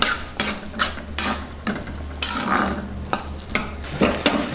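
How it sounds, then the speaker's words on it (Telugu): Green peas curry being stirred in a pan, a close series of repeated scraping and clacking strokes of a spoon against the pan over a soft low simmer. "ఇందులో కొద్దిగా ఉప్పు వేసుకుందాం ఒకసారి బాగా కలుపుకుందాం"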